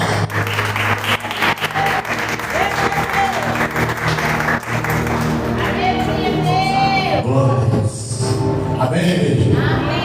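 A church congregation applauds together during a worship service, with sustained clapping mixed with children's voices and scattered speech, then a singing voice rises over the fading applause.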